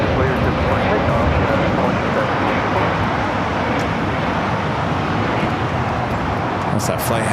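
An Airbus A320 departs LAX with a broad, loud, sustained jet roar that fills the scene without easing, heard close and steady, with faint outdoor traffic underneath.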